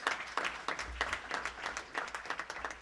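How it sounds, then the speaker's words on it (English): Audience applause at a government event, steady rapid clapping from a moderately sized crowd, fairly close and continuous throughout with no talk over it. "let's give her a round of applause."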